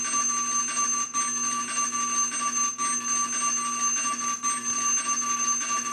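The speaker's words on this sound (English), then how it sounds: "let's talk about the countdown timer" A classroom countdown timer alarm sounds continuously, a loud steady electronic ringing tone repeating in pulses with brief dips about every second and a half, alone without talk.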